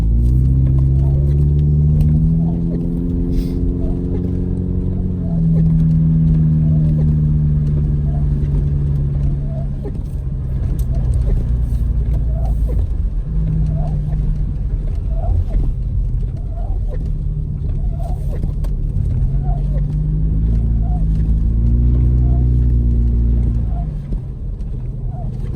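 A car driving at night on snowy Big Bear mountain roads: a loud, steady engine drone that rises and falls in pitch as it slows and speeds up, with faint talk inside.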